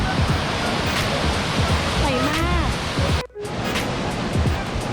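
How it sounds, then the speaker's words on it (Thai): A waterfall roars steadily as a dense, loud wash of falling water at a natural swimming spot on a holiday, with someone speaking briefly over it and a short dip partway through. "สบายใจได้ยินเสียงน้ำตก"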